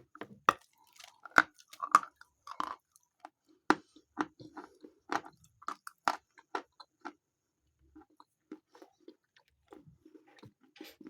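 Pieces of chalk are bitten and chewed close up, a series of sharp crisp crunches and grinding chews spaced irregularly with short pauses, no talking.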